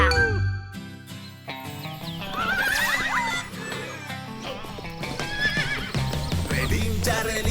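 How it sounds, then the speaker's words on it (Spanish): A horse neighs and whinnies repeatedly over clip-clopping hooves and jingling bells, set against a bright children's song backing with music throughout. "Relincha, relincha, el caballo relincha."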